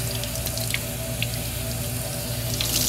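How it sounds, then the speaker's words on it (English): Cold tap water runs into a kitchen sink while kale is rinsed, a steady close hiss with faint drips and splashes throughout and no speech. "just go ahead and turn your water to cold. Give it a quick rinse just to freshen it back up again."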